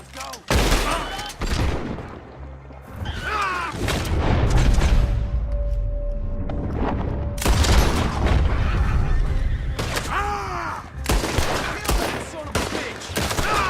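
Gunfire in Red Dead Redemption 2 as a lock is shot, with sharp loud bursts of shots breaking out repeatedly across a noisy battle scene, separated by brief lulls and mixed with shouting voices.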